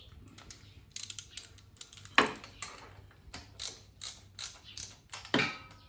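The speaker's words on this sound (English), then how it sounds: "Then on the final, check with the ratchet, just nip them up." A hand ratchet tightens the bolts on a Suzuki Swift oil filter housing, giving bursts of quick, crisp clicking strokes with short pauses between them, close up and clear with no talking.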